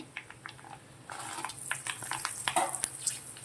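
Mustard seeds and dried red chillies, added after fenugreek, sizzle and crackle in hot oil, a steady frying hiss with scattered sharp pops that grows busier toward the end.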